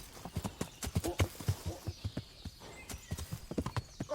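Steady clip-clop of horse hooves in the video game Kingdom Come: Deliverance, a rhythmic walking gait of sharp knocks, loud and close with a faint whinny in the background.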